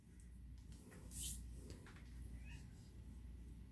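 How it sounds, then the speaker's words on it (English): An indoor cat trying to get into a room gives a couple of faint, distant meows over a low background hum. "Oh, I got a kitty fighting to get in here."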